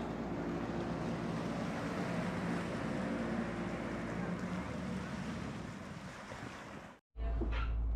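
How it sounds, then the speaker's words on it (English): A tiny car ferry moves across open water, with a constant rush of waves and wind noise buffeting the microphone, then a sudden brief cutout before the roar returns. "It ended up being the little car ferry."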